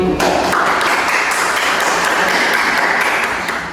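A crowd applauds: a dense burst of clapping that starts abruptly, holds steady for a few seconds, then begins to fade.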